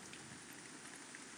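Steady, faint rain patters continuously in the OMSI 2 bus simulator while driving a Volvo B7RLE Eclipse 2 bus on route 75, with no voices over the soft hiss.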